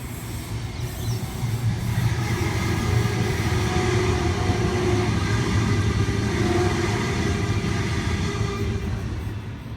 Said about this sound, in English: Kiama service about to pass platform 5.